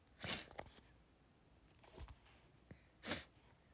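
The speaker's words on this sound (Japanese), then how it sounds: "くしゃみしそう、くしゃみしそう" A woman sneezes during a late-night live stream, with a quiet sharp burst near the start and another louder burst near the end, plus softer breathy sounds between, all faint and close.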